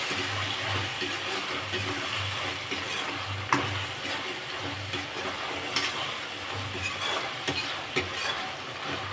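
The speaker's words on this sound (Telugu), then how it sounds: "ముందుగా నానబెట్టుకొని ఉంచుకున్న పచ్చనపప్పు వేస్తున్నాం వేసి ఒకసారి మిక్స్ చేస్తున్నాం" Soaked chana dal is stirred into a hot frying pan for a prawn curry, giving a steady soft sizzle with scraping stirs and a few sharp clinks of the spoon against the pan.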